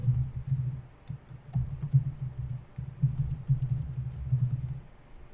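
Computer keyboard keys tapped in a quick, uneven run while an email address is typed, close and clear with brief pauses between bursts and no voices.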